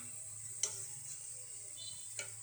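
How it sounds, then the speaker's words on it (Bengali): Boiled chickpeas are sautéed with spices in a pan, giving a soft, steady sizzle broken by two brief light taps. "এবার ছোলা দিয়ে আরেকটু কষিয়ে নিব ভালো করে, যাতে ছোলার ভিতরে মশলাটা ঢোকে।"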